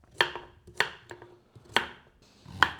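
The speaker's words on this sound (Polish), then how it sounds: "Kroimy marchewki." Knife chopping carrots on a cutting board for a pumpkin soup, four or five sharp, close thuds spaced irregularly, each with a short clack, heard alone without talk.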